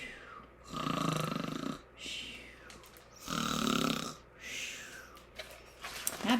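People imitate a bear snoring, making several drawn-out, rumbling snore sounds with breathy inhalations in between, moderately loud and close, with no speech.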